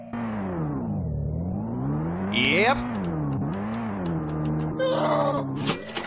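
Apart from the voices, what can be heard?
car engine revving climbing mountain in video game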